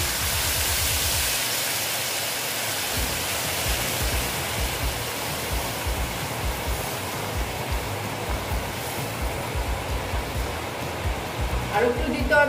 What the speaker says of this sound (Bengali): এখন আমি এখানে জল অ্যাড করে দিচ্ছি। আমি না জলটা গরম জল